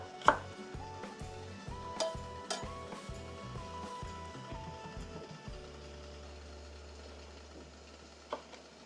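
A knife julienning burdock root into 6 by 0.2 cm strips on a cutting board in a Korean cooking exam, with crisp, evenly spaced chops close up for about five seconds, then a low steady hum.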